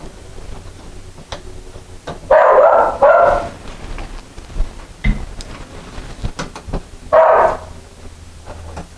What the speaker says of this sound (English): I guess you can hear my dog barking in the background there